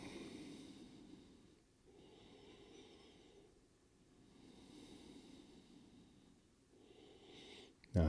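Slow, deep breaths from a person resting face-down in crocodile pose during a gentle yoga flow, soft rhythmic inhales and exhales repeating about every two seconds, close and quiet, with a brief louder bump at the end.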